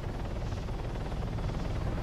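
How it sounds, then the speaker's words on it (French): A helicopter in the video game Arma 3, heard from inside the cabin as a dense, steady rotor and engine drone with a low rhythmic thrum, loud and unbroken throughout. "On est dans un hélicoptère."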